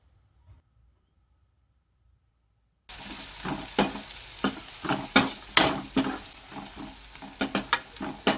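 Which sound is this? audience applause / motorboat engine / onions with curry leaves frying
onions with curry leaves frying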